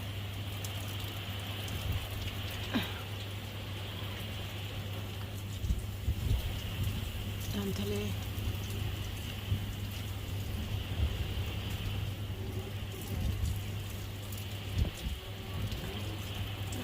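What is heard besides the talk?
rain and wind during bad weather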